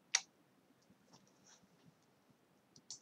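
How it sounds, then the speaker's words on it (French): A computer keyboard's delete key is pressed, giving one sharp, close click at the start, then a few faint ticks and another click near the end in an otherwise quiet room. "on va sur la touche du clavier supprime"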